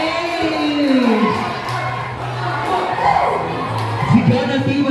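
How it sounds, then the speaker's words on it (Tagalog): Supporters at a volleyball game in the Philippines shout a team chant together, a loud crowd roar with rising and falling cheers and scattered voices, steady throughout. "Sigaw ng Team Matango."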